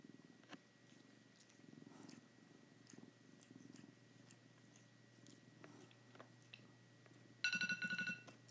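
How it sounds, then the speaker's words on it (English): A contented male house cat purrs quietly nearby in a still room, a soft low steady rumble running throughout, with a brief louder burst of rattling or chewing-like sounds near the end. "My cat's over here purring."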